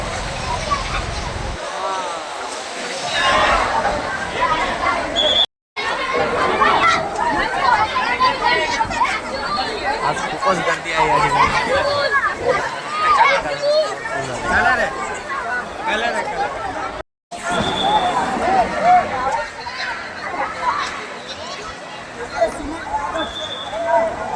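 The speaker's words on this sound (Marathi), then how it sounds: "कारण खूप गर्दी आहे इकडे" A busy public swimming pool at a sports club near Panvel, crowded with many people talking at once. Dense, steady babble fills the whole stretch, with splashes and sharper shouts rising out of it, briefly cutting out twice.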